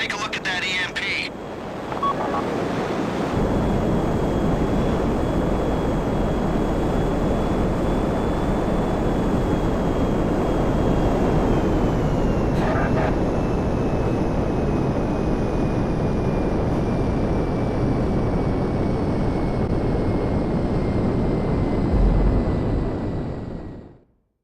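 A Hydra jet in Grand Theft Auto roars steadily during a heist, a loud, continuous engine drone with a thin whining tone that slowly drops in pitch before cutting off at the end.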